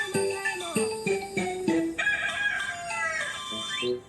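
A rooster crows loudly and close by, a long harmonic call with stepped, wavering tones, joined by other birdsong and clucking in the background.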